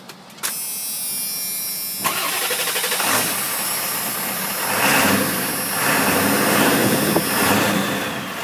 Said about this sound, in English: Let you listen to the engine.